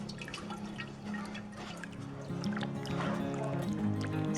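Water pours through a sieve as corn is washed for Nigerian akamu, a steady splashing and trickling that grows slightly louder midway, close and fairly quiet.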